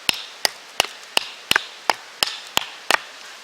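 Crisp, sharp blade strikes ring out about twice a second as a hazel wood piece is chopped flat at a bushcraft camp, nine evenly spaced hits close by with no talking.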